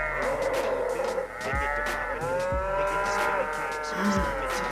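Cattle at a dairy farm low repeatedly in drawn-out moos, close and fairly loud over a steady background hum, with faint voices in the mix.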